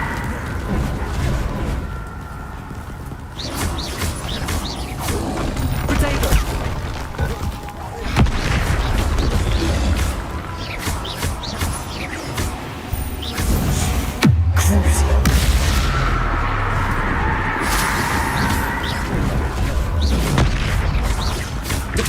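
Confringo blasting spell explosions in Hogwarts Legacy, a string of deep booms and bursts with crackling debris and rumbling impacts layered over busy game combat, loud and near.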